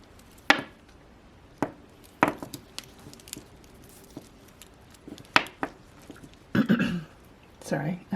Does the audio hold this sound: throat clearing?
yes